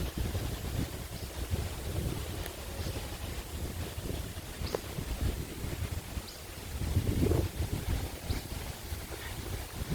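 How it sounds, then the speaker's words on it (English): Strong wind over a lake buffets the microphone continuously, a loud rumbling roar with gusts, with faint lapping water in the background. "Cannot believe how windy it is here on this lake."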